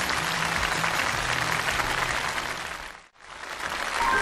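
A studio audience at a televised lecture show gives a thick, sustained round of applause. It holds loud for several seconds, cuts off abruptly, then swells back in.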